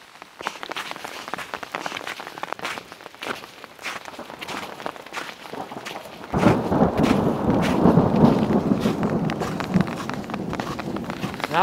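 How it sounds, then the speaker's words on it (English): Thunder from lightning striking nearby during a rainstorm on the Colorado Trail, a sudden heavy rumbling roll that swells midway over an ongoing patter of rain and scattered crackling impacts, close and loud. "Just a giant glass bang. Lightning is really close."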